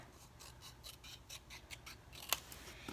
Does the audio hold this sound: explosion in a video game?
no